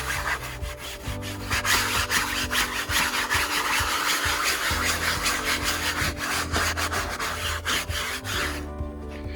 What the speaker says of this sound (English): And then we want to brush the seat a little bit,